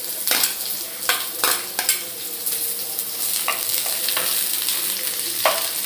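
Chopped onion sizzles in hot oil with already-fried tempering seeds, a steady frying hiss punctuated by sharp clinks and scrapes of a stirring spoon against the pan.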